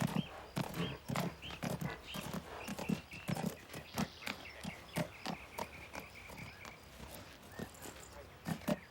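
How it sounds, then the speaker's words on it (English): A horse's hooves clop in a steady, uneven rhythm, with low shuffling and faint movement noises around them. "Get that horse put up."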